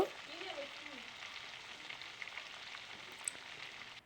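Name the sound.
prawns frying in a pan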